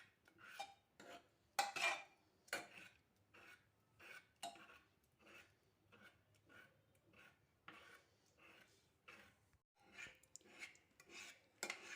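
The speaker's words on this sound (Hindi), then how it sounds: "अब इनको हम कड़छी की हेल्प से थोड़ा सा मैश कर देंगे।" Rice pressure-cooked for kheer is mashed in hot milk with a metal ladle, giving a steady run of close scraping, clinking strokes against the pot in an uneven rhythm, with no voices.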